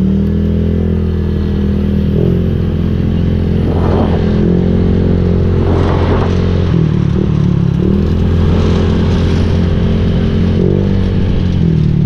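A Honda Click scooter is driven along, its engine giving a loud, steady droning hum close to the listener with slight shifts in pitch and faint rattles, with no talking.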